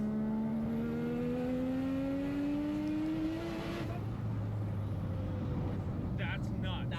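A turbocharged Mazda RX-7 engine climbs steadily in pitch under light throttle, then drops off and settles to a lower drone, heard from inside at moderate level with faint chatter in the background.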